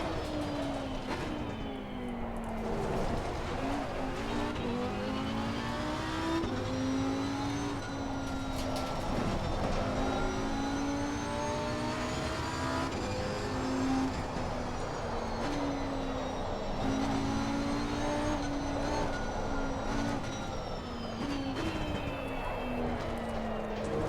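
A mid-engine car in GT2 revs and accelerates through the gears, a steady droning engine note rising and falling in pitch continuously with no break.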